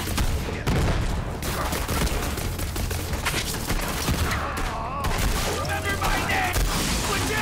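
Rapid gunfire bursts and explosive booms from the Borderlands 3 video game fill the clip loudly and continuously, with a player's voice talking over the shooting.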